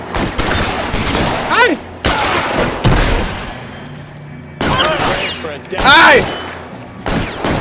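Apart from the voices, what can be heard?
gunfire in a shootout, video game L.A. Noire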